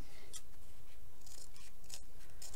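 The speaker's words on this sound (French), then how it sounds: "donc on va couper autour" Scissors snipping around craft material for a Christmas table centrepiece, a few close, crisp cutting strokes with light rubbing between them.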